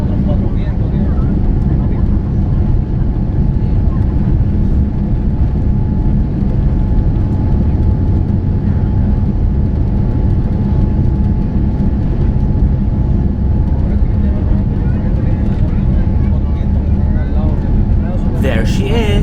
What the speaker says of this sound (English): Takeoff roll took forever